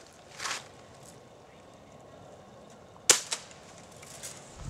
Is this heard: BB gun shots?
yes